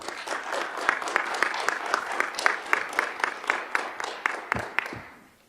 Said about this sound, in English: How about one more round of applause for these guys?